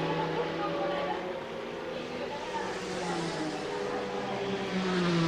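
The Advan Alpha Porsche racing into the pits at Fuji in 1988, a continuous droning engine note with a shifting pitch, mixed with other cars and track ambience under a commentator's voice.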